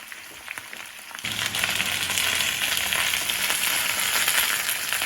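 Potatoes fried Russian style in an open, uncovered pan on high heat, giving a loud, steady sizzle that swells suddenly after a quieter opening and then holds close and continuous.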